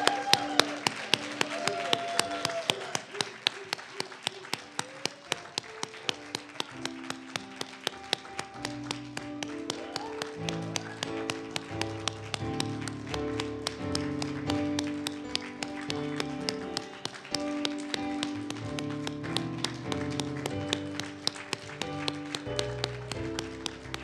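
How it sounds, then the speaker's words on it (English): A church congregation at Evergreen Baptist Church applauds for a pastoral anniversary, steady sustained clapping under organ or keyboard music that plays throughout. "Let's give another round of applause."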